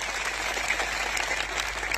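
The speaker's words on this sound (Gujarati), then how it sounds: "મીડિયા મિત્રો માટે એકવાર જોરદાર તાળીઓ પાડી લો" Rally crowd applauding the media team, a dense, even wash of many hands clapping at once, sustained and moderately loud throughout.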